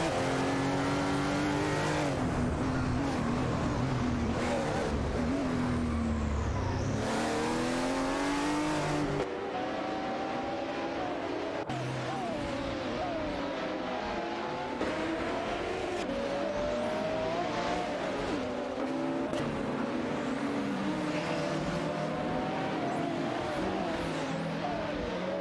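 Race cars in a racing game accelerate and overtake one another, engines revving through rising and falling gear pitches, with several cars passing close by and loud, layered engine roar lasting the whole stretch.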